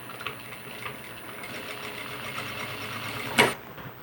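A sewing machine runs steadily while stitching a fabric toiletry bag with a pocket, a soft continuous whirr with one brief sharper clack near the end.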